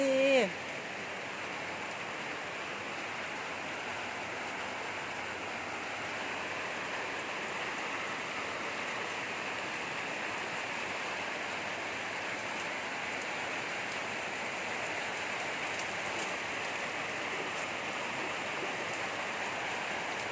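Steady, even rain hisses throughout, a dense wash of falling water with no pauses, close and fairly loud.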